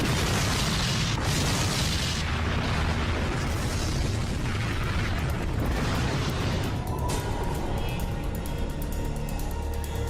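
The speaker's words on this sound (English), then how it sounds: "I thought it was a bomb." Explosion of the TWA Flight 800 airliner near New York, a massive sustained roaring blast and rumble filling the whole span, loud and dense without pause.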